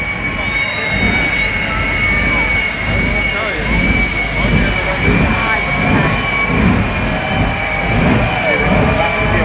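A jet-powered truck roars with a loud, sustained engine blast and a high whine riding on top, alongside a pulsing rumble. A commentator speaks over the noise.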